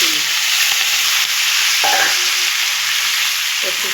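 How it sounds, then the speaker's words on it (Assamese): Taro pieces fry in hot oil with panch phoron, a loud, steady sizzle with a few scraping stirs of a spatula against the pan. "ইফালে কচুখিনি দিলোঁ"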